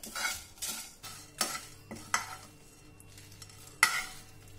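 Dry red chillies and fennel seeds roast in a kadai over a low flame, with a spatula scraping and stirring in regular bursts over a soft background hiss.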